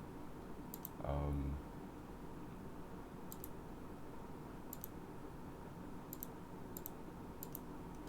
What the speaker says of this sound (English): I click cancel, it's gonna bug